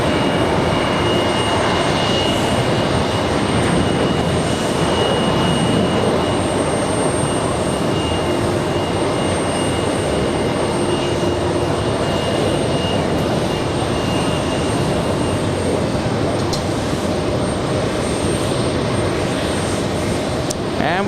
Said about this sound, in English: This one, takeoff happening on 4 left. This one flying to Calgary, 737-800, WestJet 1681.